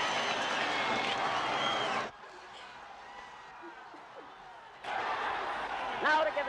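Loud crowd cheering fills a heavyweight championship boxing arena, dropping suddenly to a quieter murmur for a few seconds before surging back up to a full roar.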